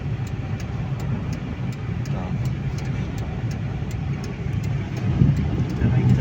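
Honda CR-V on a road test after a repair for lost pulling power, giving a steady broadband engine and road rumble throughout, with a slight rise near the end and voices talking under it.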